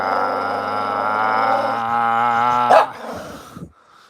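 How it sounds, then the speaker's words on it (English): A pet dog gives a single drawn-out howling bark, close to the microphone, that breaks off with a short yip and fades. "No barking."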